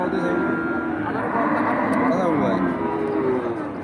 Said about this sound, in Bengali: দেখেন অনেক সুন্দর সুন্দর গরু আনিয়েছে সাইফুল ভাই